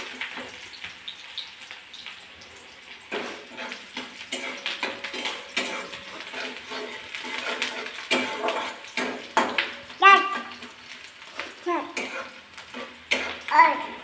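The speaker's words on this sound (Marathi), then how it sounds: "आता आपण कांदा चांगला फ्राय करून घेऊया।" Onions frying in a pan for an egg curry, soft sizzle under clinks and scrapes of a spoon stirring against the pan, close and fairly quiet, with a voice heard faintly at times.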